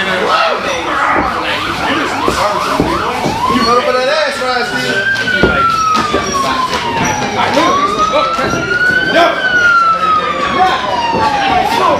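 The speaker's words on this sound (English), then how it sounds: "So police sirens are pretty normal around here." Police sirens wailing past outside a wrestling venue in Dundalk during a triple threat elimination match, rising and falling sweeps continuous over crowd noise and commentary talk.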